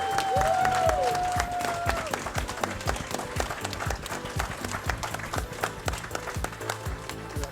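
An audience applauds in memory of Nicholas Parsons, clapping loudly at first, with a whistle near the start. It then thins into scattered, sharp individual claps over a low background hum.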